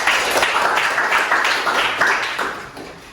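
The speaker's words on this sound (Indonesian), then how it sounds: "tepuk tangan" Pupils in a classroom clap together in a brief, close burst of rhythmic, slightly uneven applause that fades toward the end.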